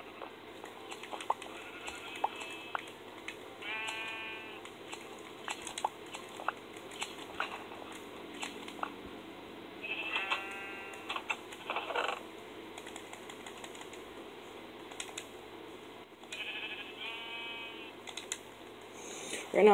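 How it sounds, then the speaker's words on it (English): Sheep in the Minecraft video game give a few short, buzzy bleats in scattered bursts over quiet game ambience and light clicking sounds. "the gray sheep is in here by himself"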